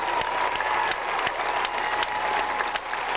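A crowd of 18,000 people applauds First Lady Hillary Rodham Clinton at Seneca Falls in 1998, dense continuous clapping with sharper individual claps standing out, loud and sustained throughout.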